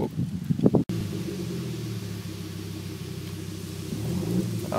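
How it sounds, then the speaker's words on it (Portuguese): Idling engine of a 1994 Audi S4 with a 2.2-litre turbocharged five-cylinder, a steady low rumble held close and alone after a brief louder blip at the start. "O barulhinho do motorzinho aqui."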